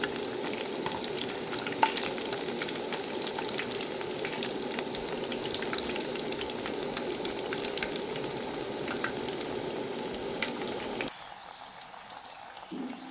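Pumpkin fritters (beguni) fry in hot oil, a steady close-up sizzle and bubbling that runs unbroken, then drops quieter near the end as the pieces are turned.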